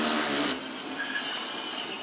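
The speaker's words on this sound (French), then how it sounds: "Pour tenter une dernière fois d'ouvrir la porte, Gérard s'attaque à la serrure à l'aide d'une perceuse." A power drill whines loudly against the lock of an armored door, grinding at full speed, then the pitch drops and thins as the bit spins on more freely.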